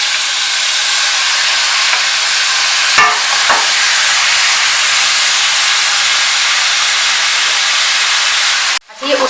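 Half a kilo of peeled tomatoes hiss and sizzle loudly in a pan of frying qeema mince, a steady close broadband crackle with a couple of brief knocks early on and a sudden drop at the end.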